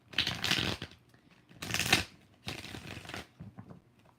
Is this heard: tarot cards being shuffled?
yes